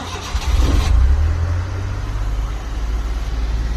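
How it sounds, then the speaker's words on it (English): A warmed-up Suzuki Super Carry mini truck engine cranks briefly and catches, then settles into a steady, close, rumbling idle. "just a quick video of a warm start"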